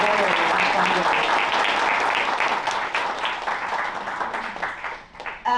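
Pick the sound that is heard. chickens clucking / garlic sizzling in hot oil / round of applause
round of applause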